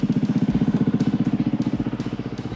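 Motorcycle engine idling steadily at about 2,000 RPM, a close, loud, even low putter with regular firing pulses throughout and no voices.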